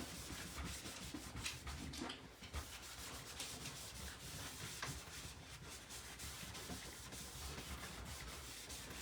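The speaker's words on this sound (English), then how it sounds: "I'm just going to buff it out a little bit" A cloth buffs a wooden step stool by hand, making a soft, continuous rubbing and scuffing that is faint and steady and has no voices over it.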